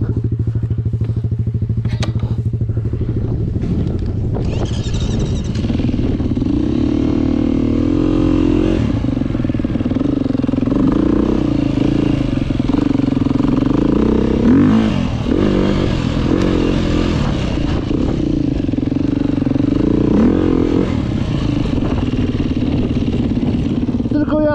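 A Beta 350 enduro motorcycle rides over gravel at a gravel pit, its engine droning steadily as the throttle is opened and closed, with rising and falling revs, thumps and clatter from the rough ground, close and loud throughout.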